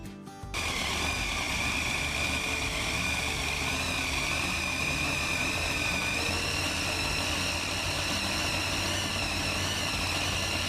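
A Hemi engine runs at a small-town car show along Route 66, starting abruptly and then holding a steady, close idle with a continuous mechanical hum and whine, with no talking.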